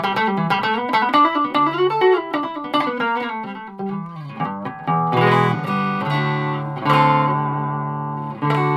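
An electric guitar on the neck pickup plays through a Blackstar HT-5 amp, a mildly overdriven tone with a bent, gliding phrase followed by sustained chords.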